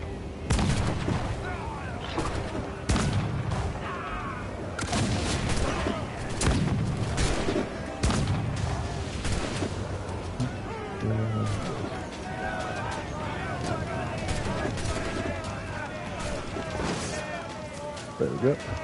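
Ship cannons in Assassin's Creed Black Flag fire in repeated heavy booms and volleys over a constant battle din of water and wind, with a voice calling out orders over the gunfire.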